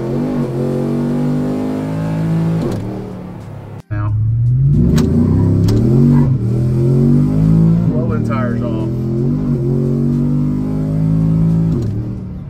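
A Gen V Chevrolet Silverado with an L86 V8, BTR 220 cam and Truck Trinity intake accelerates hard near the Mexican border, its engine rising through gears in loud close roars with a brief shift break, while someone talks over it.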